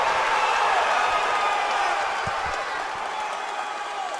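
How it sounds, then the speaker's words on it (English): A large MMA event crowd roars continuously during a live fight, a loud, sustained wash of cheering and whooping, with a commentator's voice faintly underneath. "This crowd is electric."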